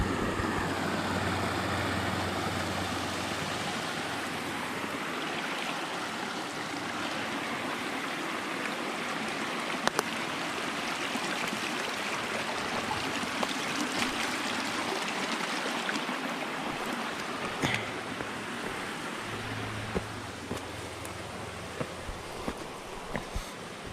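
Creek flowing steadily along the Pinhoti Trail in the woods, a constant rushing wash of water close by with no voices.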